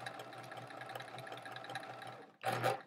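A sewing machine stitches in the ditch along a chevron quilt, running in a steady fast whir of needle strokes, then a louder burst near the end.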